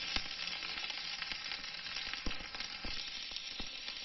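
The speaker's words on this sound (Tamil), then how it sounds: "இது நல்லா வதங்கட்டும். பச்சை மிளகாய் நல்லா ரா ஸ்மெல் போகட்டும்." Green chillies sautéing in a pan for mushroom thuvaiyal, a steady close sizzle of frying with occasional sharper crackles and pops, heard alone without any talk.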